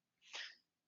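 A single sharp sneeze, short and fairly faint, with nothing else around it.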